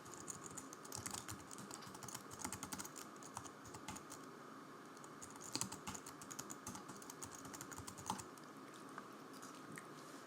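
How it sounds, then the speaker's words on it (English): Rapid, irregular keystrokes on a computer keyboard, close and fairly quiet, continuing in quick bursts with short pauses. "I'm going to type my basic information."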